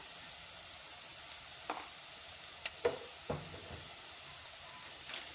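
Spices, chilli powder and garam masala being stirred into hotel-style veg fried rice in a pan: a faint steady sizzle with a few soft, sparse scrapes and taps of the spoon.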